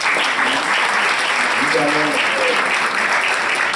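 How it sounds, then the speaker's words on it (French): Audience applause for a panel at a Senate forum in the Palais du Luxembourg, a steady dense clatter filling the room throughout while a speaker's voice carries faintly over it. "Je vais demander d'applaudir l'ensemble des panélistes."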